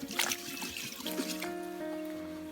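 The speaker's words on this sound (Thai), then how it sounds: "ล้างถังน้ำก่อน" Water trickling and sloshing as a water bucket is rinsed, faint and close, with a few thin tonal rings and no talk.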